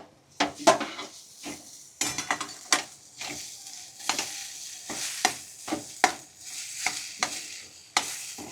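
A spoon stirs a turmeric-coloured green pigeon pea kachori filling in a pan. Irregular scraping and clinks against the metal sound close, with a light sizzle underneath.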